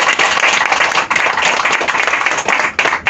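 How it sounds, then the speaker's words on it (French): Loud, dense clapping from a live audience at a stage hypnosis show, steady across the whole stretch with a couple of brief dips, close and filling the room with no talk over it. "On va les applaudir simplement aux applaudissements dynamiques"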